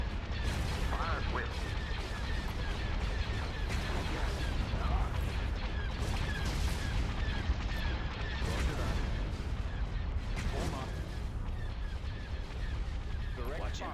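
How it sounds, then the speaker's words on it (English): Starship battery cannons firing during a space battle over Coruscant in a Star Wars strategy game, a continuous barrage of booming shots and blasts layered over a rumbling mechanical bed, dense and steady without pause. "All batteries commence firing."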